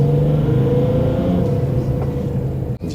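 A Peugeot 407 coupé diesel engine hums steadily with a low, continuous drone as the car accelerates, close and fairly loud, with a brief dip near the end.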